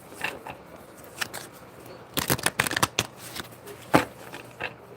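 Tarot cards shuffled by hand, with scattered soft flicks building into a dense burst of crisp riffling snaps, then a few sharper taps and slides near and clear.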